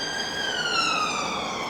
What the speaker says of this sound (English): You wonder every time you hear that siren, you wonder, why is it rushing up to the hospital?